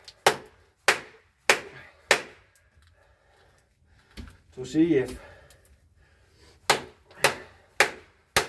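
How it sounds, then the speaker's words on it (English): Sharp, ringing hammer blows strike the spine of a Halfbreed LSK-02 knife to drive it through a wood knot: four evenly spaced hits, a pause where someone speaks, then four more strikes. "you can hammer on the blade"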